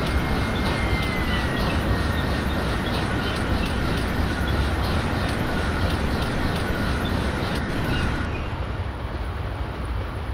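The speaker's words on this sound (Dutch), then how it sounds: "Het is een goederentrein, een containertrein." Container freight train in Train Simulator 2022, on a Dutch line near Zutphen toward Arnhem, rolling past in fog with a steady, loud continuous rumble and rail noise that holds throughout, then dulls slightly near the end.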